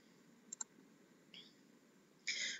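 A computer mouse gives a quick, faint double click early on, with a few soft interface tones following against a quiet background.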